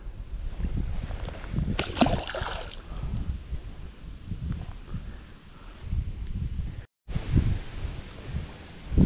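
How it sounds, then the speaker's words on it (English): Wind gusting across a river during smallmouth bass fishing on the Youghiogheny, a steady rushing blow with low buffeting that swells and eases, with brief rustling bursts near the start and a short dropout before the wind returns. "The old wind's starting to pick up now a little bit."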